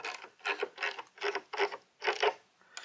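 A ratchet wrench tightening a fitting at a workshop bench, heard as a series of short, evenly spaced clicking bursts of several quick pawl clicks each, close and fairly quiet, with no talking.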